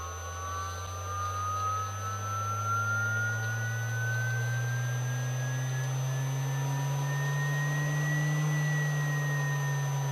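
A 1.5kW air-cooled CNC spindle spins up, its steady whine rising slowly in pitch over a low motor hum, continuous, close and moderately loud, with no talk.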